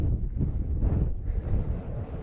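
Wind gusts across a mountain ridge in sunshine, a brief, close, low rumbling buffet against the microphone that rises and dips.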